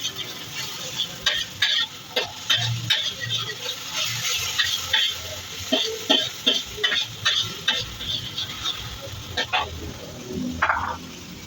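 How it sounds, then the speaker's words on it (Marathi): Tomatoes frying and being stirred in a kadhai for tava pulav, with steady sizzling under repeated spoon scrapes and stirring strokes in an uneven rhythm throughout, close and moderately loud, no talking. "थोडंसं हलवून घ्यायचं."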